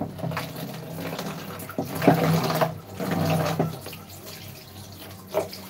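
Water running from a tap while something is rinsed by hand in a home kitchen after cooking meat and fish, a steady splashing rush that swells and dips with occasional clatter, with no talk.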